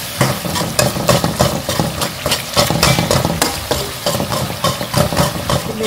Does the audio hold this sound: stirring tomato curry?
yes